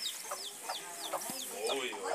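A hen clucks in soft, repeated bursts beside her chick on a cattle farm, with high peeping notes scattered through and faint voices in the background.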